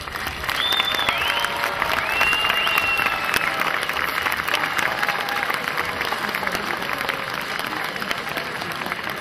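Crowd applauding to welcome Slovak defence minister František Kašický and his wife, steady sustained clapping throughout with a few whistles rising above it.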